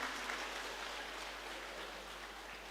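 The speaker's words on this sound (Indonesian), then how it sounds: "Boleh tepuk tangan Bapak dan Ibu semuanya." Audience applause at a school Idul Fitri halalbihalal gathering, a steady even wash of many hands clapping at moderate distance, sustained throughout with no voices on top.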